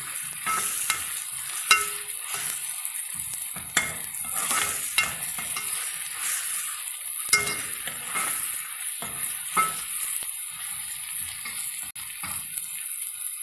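Onion fries in oil with a bright, continuous sizzle. Clear clicks and scrapes from stirring come through at irregular moments, close and fairly loud, with no voices.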